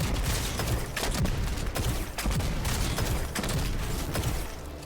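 Rapid weapon gunfire from Destiny 2 while hot swapping between guns, a steady stream of sharp shots at close range with short gaps where the weapons switch, continuing for several seconds.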